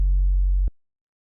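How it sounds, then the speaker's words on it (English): A low 808 sub bass in a production, one pure, deep sustained tone holding steady for under a second before cutting off abruptly into silence. "this low 808, like an actual sub,"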